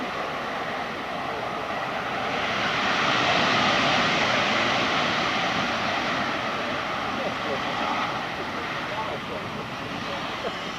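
Aircraft engines roar steadily at high power as the plane backs up under its own power, a loud, broad, continuous drone that swells slightly and then eases, with a voice talking over it.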